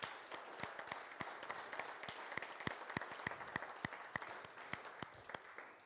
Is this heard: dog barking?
no